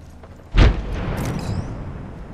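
A frag grenade in Apex Legends goes off as a single heavy boom with a sharp onset, then rumbles and decays over a couple of seconds amid faint game ambience.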